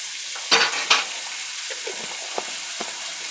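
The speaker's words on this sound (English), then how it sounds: "I'm going to throw in just 2 heaping spoons of this chopped up garlic" Two heaping spoons of pre-chopped garlic dropped into a hot pan with a couple of sharp bursts, settling into a soft sizzle with light scattered pops.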